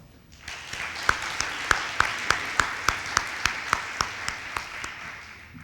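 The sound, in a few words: audience applause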